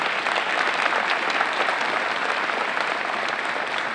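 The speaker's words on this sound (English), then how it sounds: "we want to thank you and give yourselves a round of applause" Dense audience applause at a charity event, steady and fairly loud with many hands clapping throughout, no talking over it.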